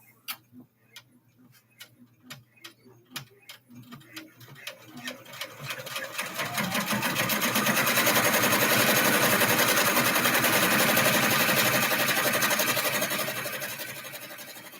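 An embroidery machine stitches lettering onto a bag: rapid, evenly spaced ticks that speed up into a dense, loud mechanical whir, then ease slightly toward the end.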